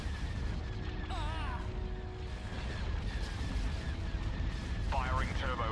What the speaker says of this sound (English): Firing turbo lasers